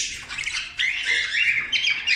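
Harsh, scratchy squawks from a small bird, close and repeated in quick bursts with barely a pause between them.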